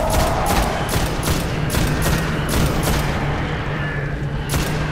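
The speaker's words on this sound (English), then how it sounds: "Grenade in there." A grenade blast and sustained gunfire in the game Destiny: a steady barrage of sharp, regularly spaced shots rattles over a loud rumbling background for several seconds.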